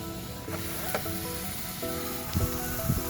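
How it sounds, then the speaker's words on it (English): Hamburgers sizzling on an outdoor grill in the rain, a steady crackling hiss with occasional sharper pops and a faint tonal hum, close and continuous with no talk. "that's not going to stop us from grilling some hamburgers outside."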